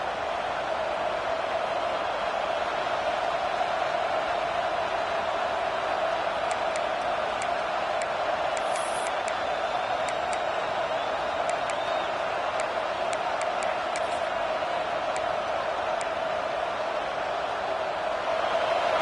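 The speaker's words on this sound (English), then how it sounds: "this big crowd doing everything possible to inspire this defense" A big crowd at an American football stadium roars in a dense, continuous wash of cheering that holds steady and loud from start to finish.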